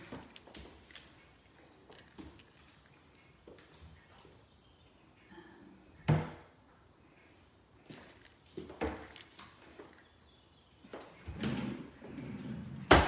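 House drawers are slid open and pushed shut during a home tour, giving a few soft, scattered thuds and scrapes in an otherwise quiet room.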